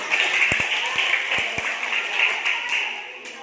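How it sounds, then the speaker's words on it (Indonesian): Children clapping hands during a health awareness session, a brisk burst of many small hands applauding together, with a few sharper individual claps near the start and the sound tapering off. "Tepuk tangan."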